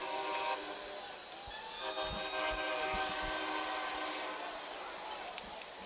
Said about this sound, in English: Love the sound of that train.